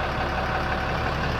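A 2016 Ram 3500 with a 6.7-liter Cummins diesel engine idles steadily, a loud, even rumble with no talk over it.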